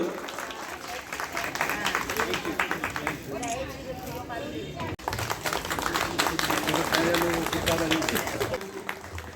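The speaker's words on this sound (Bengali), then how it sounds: "মানে জোরে হাততালি সায়নের জন্য" An audience at an agricultural fair opening claps in a dense, sustained burst of applause, with voices and a loudspeaker announcer talking over it, and a brief cut midway.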